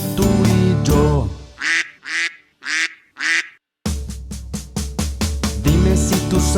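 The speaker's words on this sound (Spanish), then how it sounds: "Dime si tú sabes cómo hace el pato." Duck quacking in a children's animal-sounds setting: a rapid series of loud, nasal quacks, a brief pause, then several more quacks over backing music.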